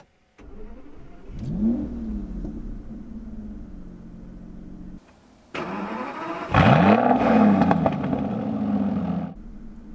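A 2014 Aston Martin Rapide S engine barks into two loud revs, the first shorter, then a bigger, longer roar that rises and holds before dropping back, close and alone with no talk.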